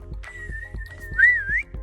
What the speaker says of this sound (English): 3 whistles.